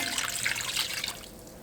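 Water poured from a vessel into a cooking pot for Purani Dilli-style degi achari chicken dum biryani, a steady close splashing rush that eases toward the end, with no talk.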